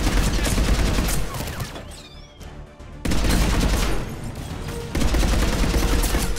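A new weapon fires in Mass Effect 3 with dense, loud bursts of rapid gunfire, broken by a short lull of quieter echoing sounds before the shooting starts again.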